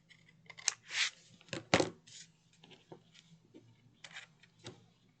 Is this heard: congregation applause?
no